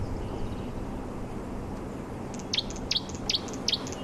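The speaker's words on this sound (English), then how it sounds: "the bird that we can hear calling always calls here" Wild bird calling from a buffalo thorn tree in the bush at sunrise: four short, bright chirps repeated evenly in the second half, fairly close, over a steady hiss of insects and breeze.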